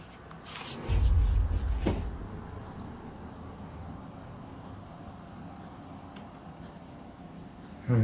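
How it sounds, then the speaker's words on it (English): A bedroom drawer slides open on its own with a low, muffled rumbling scrape lasting about a second, then fades into a faint, steady room hush. "One of the drawers begins to slowly open all by itself."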